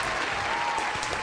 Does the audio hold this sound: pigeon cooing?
no